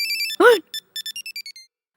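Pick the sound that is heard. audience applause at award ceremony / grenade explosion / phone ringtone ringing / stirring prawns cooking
phone ringtone ringing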